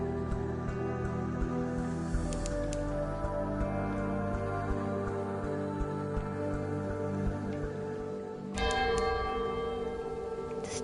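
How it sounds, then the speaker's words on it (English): Tolling bells in the video game Sunless Sea ring out over a sustained, droning ambient score, with a brighter cluster of bell strikes entering near the end. "Bells."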